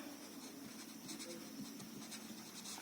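Pen scratches faintly on paper while working out a matrices and determinants problem, soft intermittent strokes in a quiet room.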